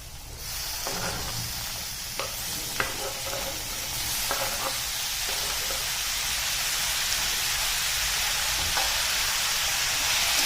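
Tomatoes dropped into a pan with browned onion for a quick tomato chutney, frying with a loud, continuous sizzle and occasional stirring clatter close by.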